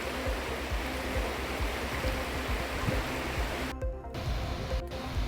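A flooded river after heavy rain rushes in a steady, loud, continuous roar of turbulent water with no voices.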